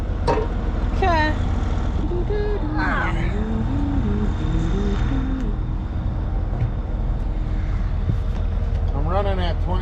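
A John Deere swather engine runs at a steady 2600 RPM, a constant low droning hum under people talking nearby.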